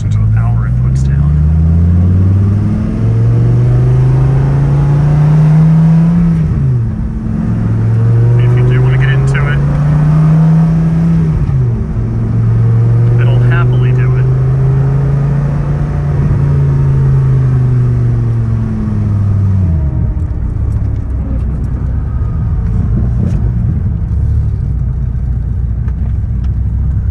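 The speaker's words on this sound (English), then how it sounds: "Just want to show the car shifts nicely, drives nicely." A 2008 Dodge Viper SRT10 drives along with a loud, close engine drone that climbs steadily through several gears, each shift marked by a brief dip in revs before the next pull.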